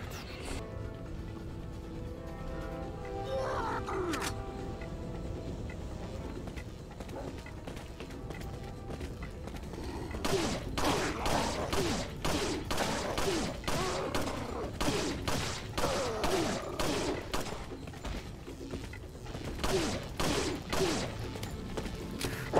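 Gunfire in the Resident Evil 4 video game during the fight against Ramon Salazar, rapid repeated shots over a background of game music and ambience, growing denser partway through.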